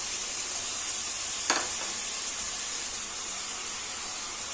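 Chickpeas frying in a pan for an evening snack, a steady close hiss of sizzling oil with one brief clatter partway through and no voices.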